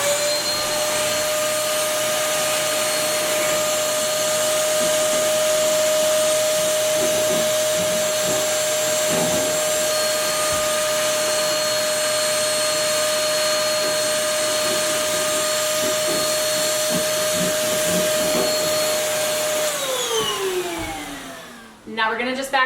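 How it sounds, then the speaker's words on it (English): Vacuum cleaner running steadily on a sofa frame, a constant loud motor whine with a scraping, bumping nozzle underneath, until the motor winds down and shuts off at the end. "So we're gonna start with just vacuuming the frame."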